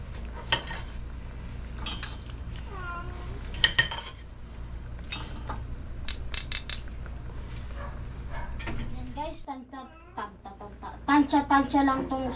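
Fish fries in a pan for sarsiado, a steady sizzle with scattered clinks of a utensil against the pan, while a voice talks over it.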